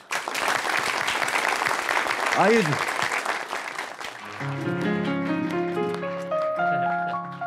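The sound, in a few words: audience applause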